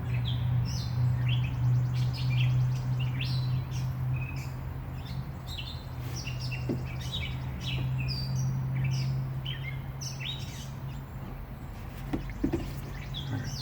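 A bird calls insistently with quick repeated chirps, nonstop over a constant low rumble of passing traffic.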